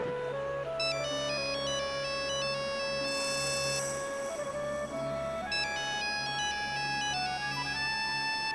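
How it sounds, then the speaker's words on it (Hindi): A mobile phone's melodic electronic ringtone plays continuously somewhere nearby, its repeating tune cycling loudly and steadily with no voices. "घंटी यही कहीं बज रही है।"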